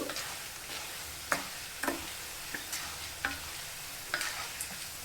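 A soft, steady sizzle of tempering spices frying in peanut oil, with sharp spoon clicks against the pan scattered every second or so.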